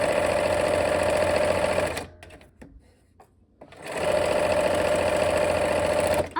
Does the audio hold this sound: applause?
no